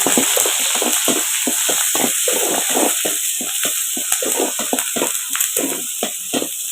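Onions, cinnamon and curry leaves sauté in a pan for a mushroom gravy, a steady close sizzle running throughout with repeated scraping stirs of a spoon against the pan in an irregular rhythm.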